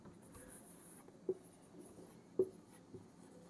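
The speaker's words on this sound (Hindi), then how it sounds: "थोड़ा नीचे लिख देती हूँ" Chalk or marker scratches across a teaching board in short strokes, faint and close, with a couple of sharper taps as letters are finished, no talk over it.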